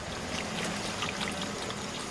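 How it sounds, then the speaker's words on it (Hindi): Water is poured into chicken curry masala in a pot, giving a steady trickling, splashing stream close by with no talk. "इसमें आप थोड़ा सा पानी डाल दीजिए"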